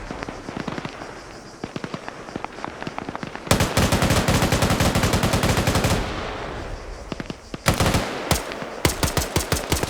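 Loud machine gun fire in a video game, coming in rapid, dense bursts that stop and restart, ending in a string of separate sharp shots.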